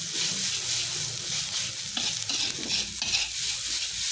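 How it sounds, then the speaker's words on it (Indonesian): Nasi goreng is stirred in a hot frying pan, giving a continuous close sizzle with repeated scraping and stirring strokes, and no talking. "Pusing-pusing terus"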